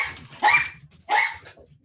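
Two sharp barks from a dog, spaced under a second apart and fairly close, with a faint low rumble of background activity beneath them.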